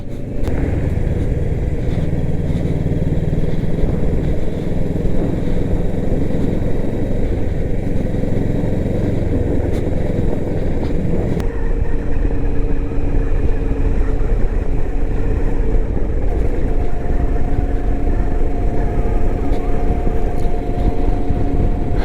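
A Kawasaki Versys 650 motorcycle rides on a rugged mountain road in Spiti Valley in the evening, its engine droning loudly and steadily with heavy wind rush throughout and a slight shift in engine pitch midway.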